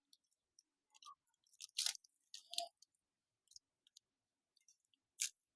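Close, wet chewing and crunching of spicy Mama instant noodles with added chili, coming in irregular bursts of smacking and biting separated by short quiet pauses.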